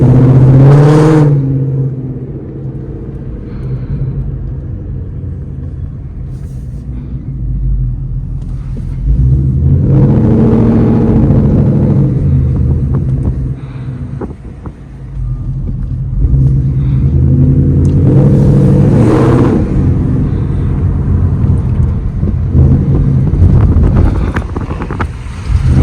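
A straight-piped Ford Mustang engine revs in deep, loud surges with throaty downshifts, each burst followed by a rumbling settle, under constant wind buffeting on the microphone.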